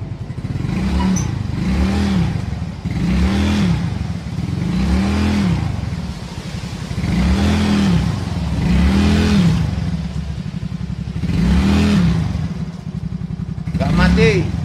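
A carbureted scooter engine, just after a carburetor adjustment, idles with a clattering putter and is revved in repeated rising and falling surges, loud and close, about six times.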